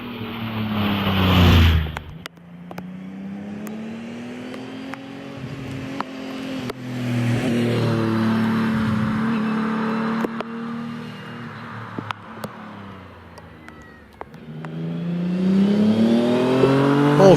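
A 2-litre class hillclimb race car at Doune blasts off loudly, then its engine note fades into the distance and climbs through the gears, with another car rising again toward the end.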